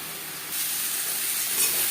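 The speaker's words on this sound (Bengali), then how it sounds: "লবণ হলুদ দিয়ে পটল চার পাঁচ মিনিট ভেজে নেব" Pieces of pointed gourd fry in hot oil with salt and turmeric, a soft steady sizzle and hiss that swells partway through, close and fairly quiet.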